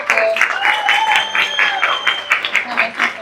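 Audience applause at a women-in-film panel discussion: dense, steady clapping from a crowd filling the room throughout, with faint voices mixed underneath.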